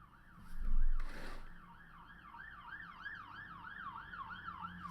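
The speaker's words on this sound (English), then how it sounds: "And there's the ambulance." Ambulance siren in an animated scene, a wailing tone sweeping up and down in a steady repeating cycle, loud and close, after a brief low thud at the start; no talking.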